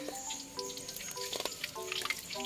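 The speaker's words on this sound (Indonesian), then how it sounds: "Bakwan jagung ini Mas Bri goreng 1 sendok" Corn fritters (bakwan jagung) made from one spoonful of batter fry in hot oil, giving a steady close sizzle with bright crackling pops and bubbling, alongside some faint tonal background sound.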